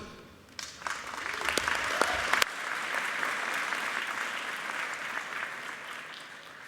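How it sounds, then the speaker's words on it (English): A graduation-ceremony audience for arts, social sciences and humanities graduates breaks into steady, full-room applause for one graduate, with a few sharp claps standing out early before settling into an even, sustained wash of clapping. "I'd really encourage you to stand, clap and cheer"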